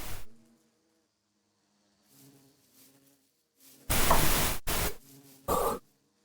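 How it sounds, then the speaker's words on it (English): Buzzing bees in the Minecraft video game, with faint droning hums at first, then sudden loud hissing bursts and buzzing swells in short clusters, without any talking. "the bees."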